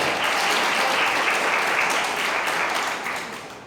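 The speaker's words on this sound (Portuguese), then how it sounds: "Então, gostaria de uma salva de palmas para esse mestre." Steady applause from an audience at a book launch event, honoring a master being asked to stand, a dense continuous wash of clapping that holds loud and then tapers slightly toward the end, with no talk over it.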